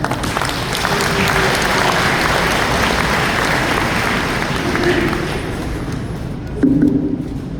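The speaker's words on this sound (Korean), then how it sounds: "장선태 원장님을 박수로 모시겠습니다" An audience at a church lecture applauds to welcome a guest speaker, a loud, sustained wall of clapping that carries on without a break for the whole span, with a few brief voices surfacing near the end.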